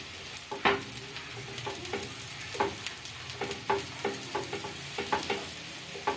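Cabbage snack pieces with sesame sizzle in hot oil in a pan, with irregular clinks and scrapes as they are turned, fairly faint and without talk.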